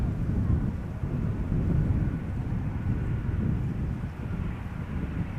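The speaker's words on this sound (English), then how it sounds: "It's the Emirates A380, number 6 on flight radar" Emirates Airbus A380 airliner flying over Amsterdam Schiphol Airport, a loud, steady low roar of jet engines, broad and rumbling, sustained throughout without talk.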